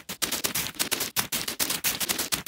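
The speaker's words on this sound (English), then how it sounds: "That's some footstep samples" Glitchy resampled footstep samples play as rapid, stuttering percussive hits whose pitch and speed wobble under LFO modulation from a Eurorack modular patch, a dense, choppy rhythm of sharp transients with brief gaps, close and alone.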